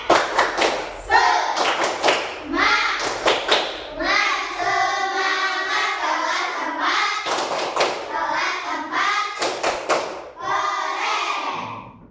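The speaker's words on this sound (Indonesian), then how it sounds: "Kita tepuk semangat dulu." A group claps in a quick rhythmic pattern, bursts of sharp claps separated by short pauses, with voices chanting along between them.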